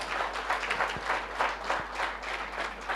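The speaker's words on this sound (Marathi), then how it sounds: "सर्वांनी एक वेळेला टाळ्या वाजवून त्यांना धन्यवाद द्यायचा." An audience applauds steadily after a talk on the Agnihotra fire ritual: dense, even clapping from many hands that continues without a break, with no voices over it.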